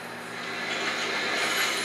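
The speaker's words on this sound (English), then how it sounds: "A train is approaching through a tunnel in the northwest." A train in the StarCraft 2 campaign rumbles through a tunnel, a steady, fairly loud rolling drone that swells slightly and holds for the whole stretch, with no talking over it.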